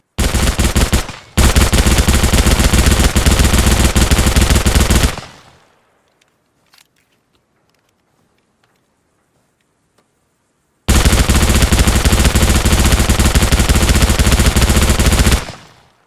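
Two loud bursts of rapid automatic SMG gunfire in Arma Reforger with Halo mods, several seconds each, separated by a long near-silent gap with a faint click.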